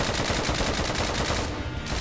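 Rapid, sustained gunfire rattles continuously, like automatic weapon bursts in a Roblox zombie game, loud and dense with no speech.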